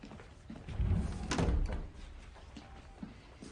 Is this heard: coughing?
no